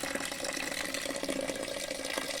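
Water poured into a potting soil mix for rooftop gardening, a steady splashing, trickling wash that runs continuously without a break, close and fairly soft.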